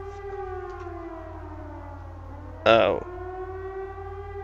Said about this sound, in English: That's a siren. That ain't good.